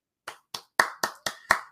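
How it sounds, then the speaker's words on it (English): Hand clapping, seven crisp claps in a steady, slightly quickening rhythm, close and clear against silence. "I'm clapping for that"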